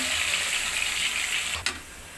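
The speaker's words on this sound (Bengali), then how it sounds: "সুন্দরভাবে আমি পেঁয়াজটা কষিয়ে নিব" Onion paste fries in oil in a wok, producing a soft, even sizzle with a brief clack of a utensil near the end, heard alone without talk.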